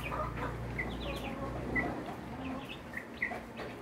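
Rhode Island Red chicks and ducklings about two weeks old peep and chirp in a brooder, high short calls scattered over a steady low hum, fairly near and continuous.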